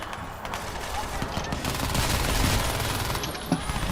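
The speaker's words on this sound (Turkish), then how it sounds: "Abi bir bana sıkıyorlar bir uzaylıya sıkıyorlar." Sustained automatic gunfire in Crysis 2, a dense rattling fusillade of shots close by, with a voice talking over it.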